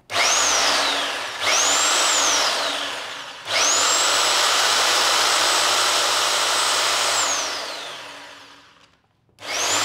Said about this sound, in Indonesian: Sekarang kita coba tes nyalakan hammernya.